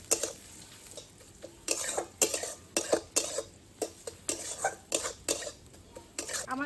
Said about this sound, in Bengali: পেঁয়াজগুলো লাল লালভাবে ভালো করে ভেজে নিতে হবে।